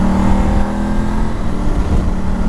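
Motorbike engine droning steadily on a ride, loud and close, with a constant low rumble and some wind roar throughout, no talking.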